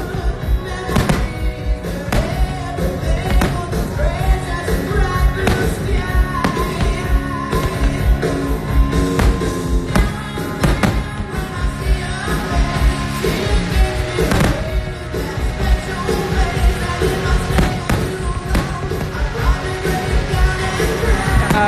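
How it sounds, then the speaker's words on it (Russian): Fireworks display at a fireworks world championship in Kaliningrad, with loud, dense, continuous bangs, thumps and crackling bursts overlapping for the whole stretch, with no pauses. "Это чемпионат мира по фейерверкам в Калининграде"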